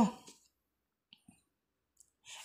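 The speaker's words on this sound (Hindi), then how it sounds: "तो यहाँ पे एडिट पर क्लिक करना है आपको" A few faint, sharp mouse clicks on an Edit button in the Flipkart mobile exchange page, spaced apart in otherwise near silence.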